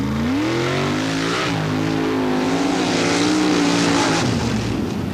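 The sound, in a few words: mud racing car engine during a race run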